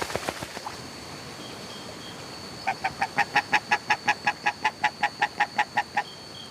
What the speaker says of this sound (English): Muscovy ducks come here in their molting season.